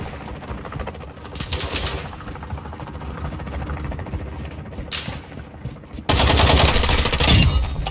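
Bursts of gunfire in a first-person shooter match, with bird-like chirps among the sounds and a louder, dense volley of shots near the end. No speech is heard.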